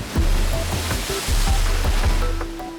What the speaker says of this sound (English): The fast-flowing water of the Atlantic makes the goose barnacles stronger, fatter and tastier to eat.